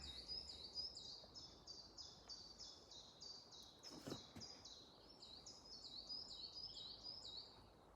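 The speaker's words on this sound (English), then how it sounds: "All you can hear around here is birds and nothingness." Birds chirp and sing steadily outdoors, a repeated high twittering pattern over a soft, quiet background, with one brief rustle midway.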